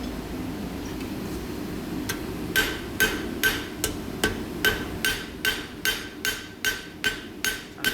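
A hammer strikes metal in a steady rhythm, sharp ringing clanks repeating about twice a second over a low background hum.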